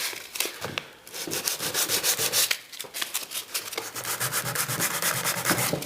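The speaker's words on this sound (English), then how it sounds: "We want to expose some of the timber on those too. Might take a little bit of aggressive rubbing on some of these." Aggressive rubbing and sanding of painted wooden furniture, a Welsh dresser being distressed to expose timber: loud, continuous rasping strokes in a steady back-and-forth rhythm, close up, with no talk.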